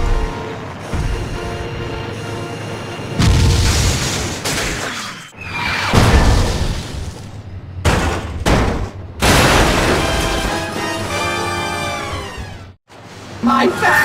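Explosions and crashing rumble as a factory collapses in the Incredibles: Rise of the Underminer video game, loud repeated booms and bursts mixed with music and dramatic voices.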